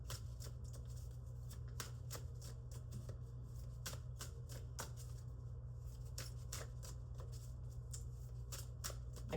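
Oracle cards being shuffled close up in a steady run of crisp riffling flicks over low room hum, quiet and without speech.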